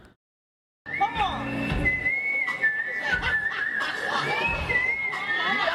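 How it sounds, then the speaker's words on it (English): A smooth, sustained whistled melody sung into a microphone rises after a moment of silence, with clear held pitches and gliding notes, close and fairly loud. "Usually when people whistle into a microphone, it sounds like death to my ears, but this is wonderful."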